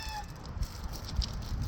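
Chickens cluck softly among the farm animals at the Blue Heron French Cheese Company factory, a few scattered faint clucks over outdoor background noise.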